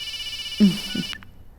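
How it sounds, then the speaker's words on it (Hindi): A phone rings with a steady electronic tone that cuts off abruptly, while a brief low voice is heard under it. "आपका फोन बज रहा है।"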